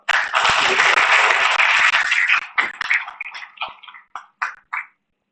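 Audience applause welcoming a professor to speak at a university induction programme: loud, dense clapping for about two seconds, then thinning into scattered individual claps that fade out.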